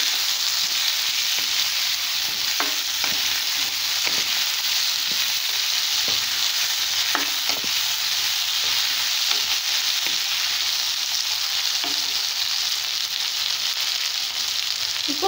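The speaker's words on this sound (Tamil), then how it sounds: "இப்போ கோவக்காவை சேர்த்துக்கலாம். ஒரு 1 நிமிஷம் வதக்கிக்கலாம்." Ivy gourd sautés in a pan with cooked-down tomato, giving a steady, strong sizzle close up, dotted with light clicks and scrapes from stirring at irregular intervals; no voices.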